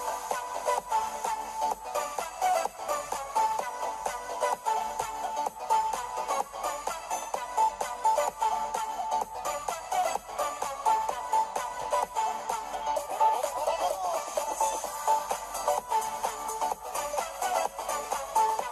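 Music plays through the upward-firing speakers of a budget laptop, a thin and fairly quiet, steady stream with a boxy midrange and little bass, heard alone without talk.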